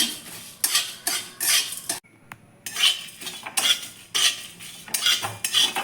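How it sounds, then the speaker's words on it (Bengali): Dried red chilli and panch phoron are lightly dry-fried in a wok over low heat. A metal spatula scrapes and stirs in repeated loud, close strokes, with a brief pause midway and no talking. "কড়াই আমি একটা শুকনো লঙ্কা অল্প করে কিছুটা পাঁচফোড়ন দিয়ে দেব গ্যাসটা লোতে রেখে আমি হালকা করে ভেজে নেবো"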